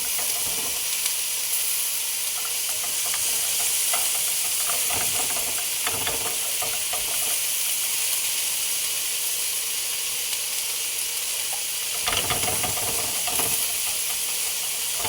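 Hot dogs cooking on a grill give a steady, continuous hiss and sizzle, with occasional louder crackling bursts, close up and without talk.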